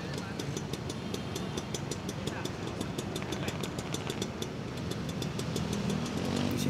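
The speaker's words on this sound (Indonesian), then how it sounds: "seketika gue nunggu tiba-tiba ada motor super datang" A motorcycle arriving on a street, its mid-pitched engine running with a steady, rapid ticking beat throughout, fairly close and continuous, with someone talking over it.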